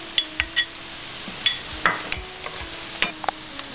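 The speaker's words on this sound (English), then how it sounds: "Fry it till it becomes very light golden brown in color." Onion with chopped chili and grated ginger stirred in a pan for chana masala, a soft sizzle under repeated clinks and scrapes of a spoon against the pan, close and fairly loud.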